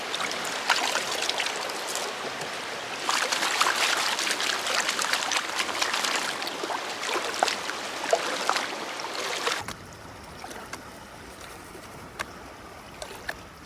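Classified material is speed panned with water in a gold pan: continuous swishing, trickling water with gritty rattles, fairly close, dropping to a quieter trickle with occasional clicks near the end.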